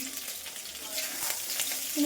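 Vegetables frying in a pan for a vegetarian dish, a steady close sizzle with faint scraping and stirring clicks, no talking.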